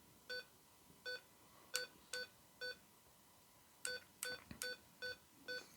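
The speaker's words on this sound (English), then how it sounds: "there's lots of beeping going on" A Tmezon doorbell intercom system gives a series of short electronic tone beeps, about a dozen evenly pitched pulses in two clusters separated by a pause, fairly quiet with faint clicks between.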